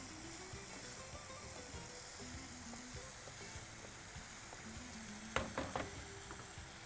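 Tomato masala with chilli and turmeric sizzles in a pan, a steady frying hiss with occasional stirring knocks and a few sharp clinks near the end, no talk.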